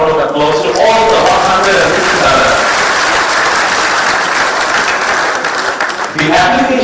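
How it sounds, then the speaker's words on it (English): A conference audience at a Bangladesh investment summit bursts into loud, sustained applause, dense clapping filling the whole stretch at close range without letup. "Can I please ask all of you to give a big round of applause"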